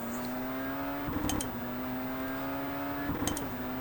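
A Tatuus MSV F racing car engine in rFactor 2 hums at a steady pitch, then twice hits the rev limiter with a brief stuttering bounce before settling.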